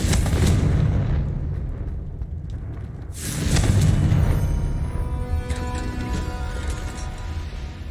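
A Confringo blasting spell explodes in the Hogwarts Legacy game, with two loud, booming blasts a few seconds apart, each rolling off into a rumbling fade.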